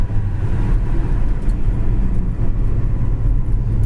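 A 1971 Oldsmobile Cutlass drives along, its steady engine and road rumble low and continuous from inside the car, with no talking.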